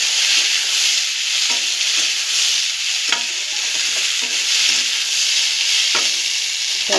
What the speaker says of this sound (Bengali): তেলের মধ্যে আমি এগুলো দিয়ে দিয়েছি।